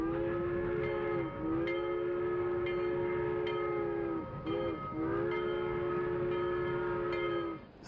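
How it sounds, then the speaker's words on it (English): A train's horn sounds in long sustained blasts with brief gaps, loud and near, over the rolling rattle of rail cars. "You can get most of the way by steam train."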